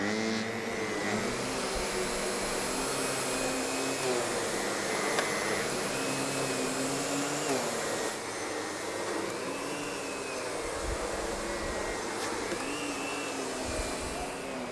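A SEBO SEB 236 vacuum cleaner runs steadily and alone at moderate loudness, its motor whine holding a constant pitch with slight wavering shifts.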